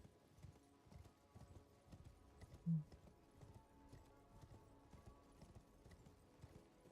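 A horse's hooves clip-clop steadily in a fantasy video game, a soft, quiet rhythmic gait running under the game's ambient sound, with one brief louder thump.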